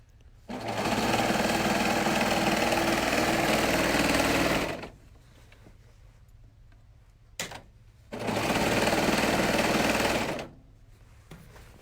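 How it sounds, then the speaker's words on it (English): A serger sewing machine stitches a ruffle quilt, running in two long, loud, steady whirring bursts separated by a quiet pause with faint handling clicks. "who would have thought that a serger could be used for quilting too?"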